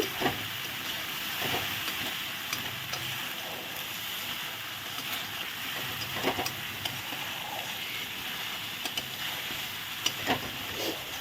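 Spice masala for doi katla, a Bengali fish curry with Kashmiri chilli powder, frying in oil in a pan, a continuous steady sizzle and hiss with scattered soft scraping ticks from stirring.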